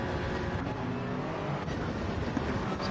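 An onboard race car engine in a racing video game drones loud and steady at high revs, a continuous buzzing roar with slight pitch shifts, close and alone without commentary.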